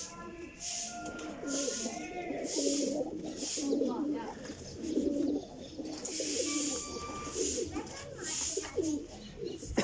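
A loft of mixed flying pigeons, about forty birds in Jhelum, coo in a dense, continuous murmur of overlapping throaty calls, close and steady, with a voice talking over them.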